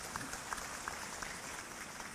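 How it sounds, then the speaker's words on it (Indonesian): An audience applauds at a talk or gathering in Palangkaraya: a steady, fairly faint wash of many hands clapping with no pauses and no voices above it. "Tepuk tangan untuk Palangkaraya adalah."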